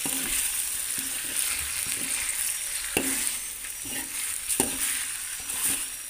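A young coconut vegetable stew with meat fries in a pan over low heat while it is stirred. A steady sizzle runs throughout, with repeated close scrapes and knocks from the stirring.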